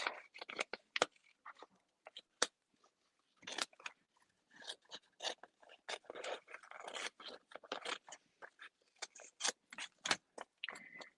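Scissors trim a piece of paper cardstock in a craft setting, giving a quick series of crisp, close snips and crunches, some in tight clusters, with short pauses in between.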